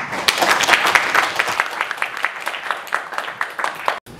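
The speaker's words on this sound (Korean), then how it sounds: "여러분 큰 박수 부탁드립니다." Audience applause at a book talk concert welcoming a fan club president, a dense run of many hands clapping close by for about four seconds, with brief murmurs and no speech over it, cutting off abruptly near the end.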